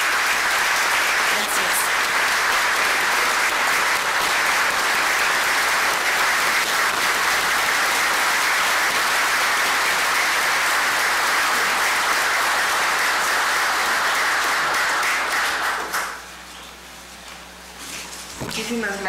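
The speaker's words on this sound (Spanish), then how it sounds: "les pido un aplauso para él" Sustained, dense applause from an audience at an academic book presentation, steady and loud for about fifteen seconds before dropping away abruptly, leaving a quieter room with scattered faint sounds.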